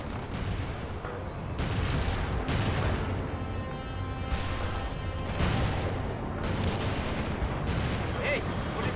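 Artillery fire support pounds the battlefield in the video game World in Conflict, several heavy booming impacts spaced a second or two apart over a steady rumble, with radio-style voices talking in the background.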